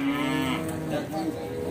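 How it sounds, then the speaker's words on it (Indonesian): Cattle low with a loud, drawn-out moo at the Bekonang livestock market, a single sustained bellow close by with steady market noise behind it and no talk. "Kita akan mereview seekor dara super teman-teman di lapak Mas Pur."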